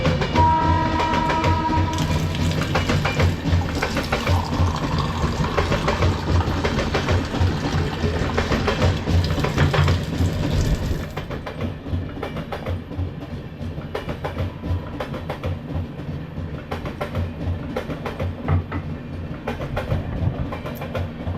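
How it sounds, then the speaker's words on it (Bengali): A long-distance passenger train rolls past nearby, a loud continuous rumble and clatter of wheels with a tonal hum early on, easing to a lower steady roar as the cars keep passing. "এই ট্রেনটা অনেক দূর থেকে আসছে"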